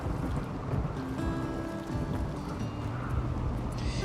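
Rain in the video game Rimworld pours as a dense, continuous wash of noise with low rumbling underneath, steady and enveloping for a few seconds with no voices.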